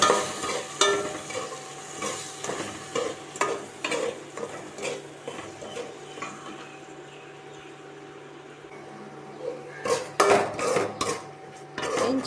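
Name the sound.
sautéing ground spice paste with ginger and garlic in pan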